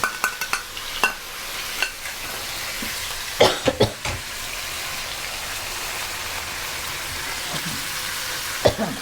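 Bean sprouts and minced pork stir-frying in a pan, a steady close sizzle broken by quick scraping, tossing strikes of the utensil against the pan.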